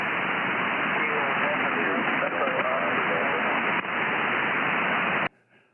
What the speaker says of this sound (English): I can hear a station out in the distance.